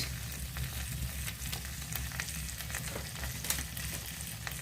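Tomato masala with turmeric, chilli powder and Kashmiri chilli is stirred in a pan on the stove, giving a steady low frying sizzle with faint scraping, no talking.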